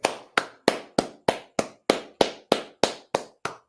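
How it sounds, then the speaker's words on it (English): Twelve sharp, evenly spaced claps ring out at a brisk steady rhythm, each crisp hit followed by a short decay, close and clear with no voices. "Clap it up."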